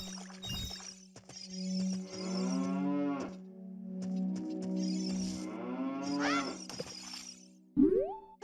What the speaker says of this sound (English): For some reason I can hear cows up here.